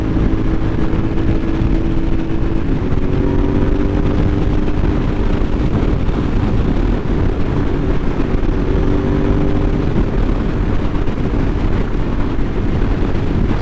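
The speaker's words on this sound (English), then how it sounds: "You can just kind of roll on the throttle and this bike will go." A Suzuki SV650 motorcycle accelerating on a highway, its engine droning steadily with rising tones as the throttle rolls on, heavily mixed with loud wind rush across the microphone.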